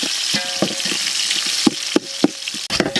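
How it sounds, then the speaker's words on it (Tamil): Onions frying in a pan for a village-style guinea fowl biryani, loud close sizzling with stirring scrapes and a few sharper knocks of the spoon against the pan. "அடுத்து வெங்காயத்தை போட்டு விட்ருவோம் ஆ வெங்காயம் போட்டு நண்பா நல்லா வதக்கி விடு"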